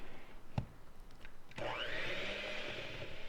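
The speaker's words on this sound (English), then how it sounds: "This is called creaming the butter and the sugar." An electric mixer creams butter and sugar for a cake in a toaster-oven trifle recipe, starting with a short knock and then running as a steady whirring motor drone that continues to the end.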